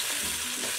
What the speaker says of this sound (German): die dann so ein bisschen anbraten lassen, dass ein bisschen Farbe bekommen